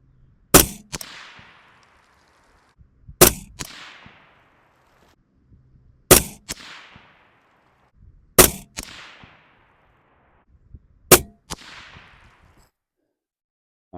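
Five loud AR rifle shots fired at a range for a 50-yard zero, evenly spaced about two and a half seconds apart, each a sharp crack followed by a brief decaying echo, with quiet between them and no talking.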